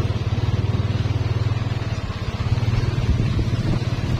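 A motorcycle engine droning steadily while riding through a neighborhood, loud and close with a continuous low rumble throughout.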